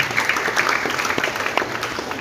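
Applause from a congregation at a Christmas church gathering in a ballroom in Manokwari, a dense continuous wash of many hands clapping at once, steady and fairly loud throughout.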